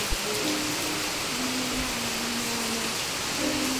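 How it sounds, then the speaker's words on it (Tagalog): Heavy rain pours down in bad weather, a dense and steady hiss that fills the whole stretch with no voices over it. "Lumakas na naman ang ulan,"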